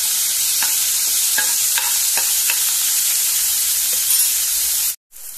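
Chopped onion and green chili fry in a pan with a loud, close, continuous sizzle, a few stirring scrapes breaking through before the hiss cuts off abruptly near the end, then resumes faintly; no voices.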